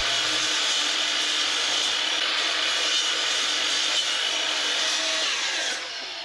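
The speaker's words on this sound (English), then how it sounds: "We're going to start out by cross-cutting this 8/4 black walnut down to rough length." Power saw cross-cutting thick 8/4 black walnut boards to rough length, a steady loud broadband whine that holds for about six seconds before dropping slightly near the end, no voices.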